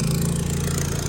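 A lawn mower's small engine drones steadily with a low, even putter, running continuously and fairly close.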